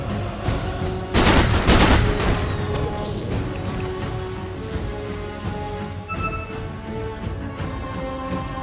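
Rapid gunfire from Gyrocopter's Side Gunner in Dota 2 during a professional match, a dense crackling burst of repeated shots with a loud peak early on and steady firing underneath the rest of the fight noise.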